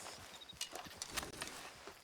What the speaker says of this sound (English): Or are those horses?